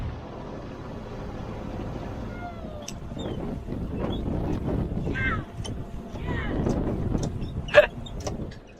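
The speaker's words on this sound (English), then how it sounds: "Got the engine started, and here we go." Boat engine running steadily while motoring across a bay, a continuous low rumble with wind buffeting the microphone and some splashing throughout.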